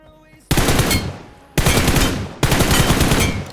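Automatic gunfire from a scoped rifle in the PUBG Mobile video game, fired in three loud sustained bursts, each beginning abruptly and fading slightly, with no speech.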